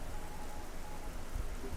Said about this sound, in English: Oh, and it rains again.